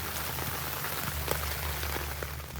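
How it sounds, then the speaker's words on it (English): Steady rain pattering on a Reactive Outdoor 3Secs tent during a stormy night camp, a dense even hiss with scattered drop taps close overhead and a low hum underneath, no voices. "You can hear that rain coming down."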